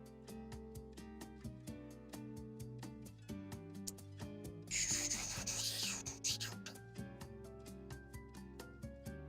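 A plastic model kit part is shaved down with a blade, giving a short scraping rub for about a second, close and soft, set against steady background music.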